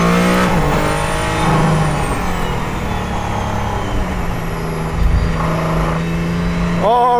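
Mercedes-AMG One hypercar lapping the Nürburgring, its engine loud and close with rising revs and stepped gear changes, pitch climbing and dropping through shifts over several seconds.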